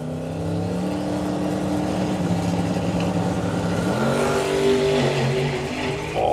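Drag racing car on a solo run at Bug Jam, a loud sustained engine roar with rising pitch as it accelerates down the strip and a brief roughness of tyre chatter, heard steadily from a distance with no talk.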